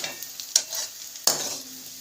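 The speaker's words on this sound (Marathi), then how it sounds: "आता आपण हळद टाकायची. थोडंसं आपण हलवून घेऊया." Turmeric is stirred into peanut chutney sizzling in a pan, with a steady hiss and two sharp scrapes of a spoon against the pan, close up and with no talking.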